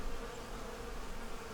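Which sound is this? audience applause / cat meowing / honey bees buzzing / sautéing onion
honey bees buzzing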